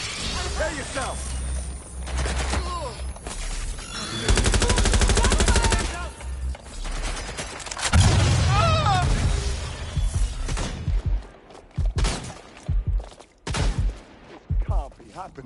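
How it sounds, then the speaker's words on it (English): Rapid bursts of gunfire in the video game Watch Dogs Legion, loud and dense, with players shouting over them and sporadic shots trailing off toward the end. "Shots fired!"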